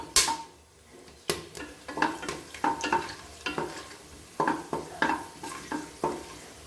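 Whole cloves, star anise and cinnamon sizzle in a hot pot as the base for chicken biryani, with a spoon stirring and scraping in a steady run of sharp metallic clinks over a soft frying hiss.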